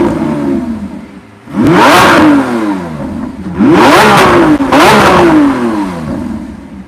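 The engine of a 2020 Lamborghini Aventador SVJ Roadster revs hard and close in three loud bursts, each climbing and falling sharply over a low idle between them.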